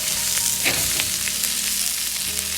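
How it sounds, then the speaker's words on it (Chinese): Drained whole spices sizzle loudly as they are quickly stir-fried in a wok with scallion, ginger and garlic for braised pork trotters, a steady crackling hiss with brief scraping stirs. "接着下入控干水分的香料，快速的翻炒几下，炒出香料里边多余的水分"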